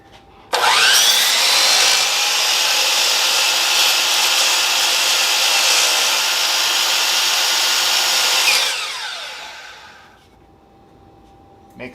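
A power saw clears debris out of a wooden joint on a rustic bench, a loud close continuous whine with grinding wood cutting that holds for about eight seconds, then winds down and fades.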